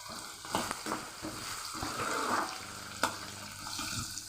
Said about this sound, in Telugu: ఆనియన్స్ అలాగే పచ్చిమిర్చి కరివేపాకు వేసి వేయించుకోవాలి